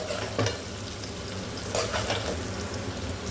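Sliced bitter gourd and okra fry in a pan for a tamarind curry, giving a steady dense sizzle with a few scraping stirs of the spatula and no talk.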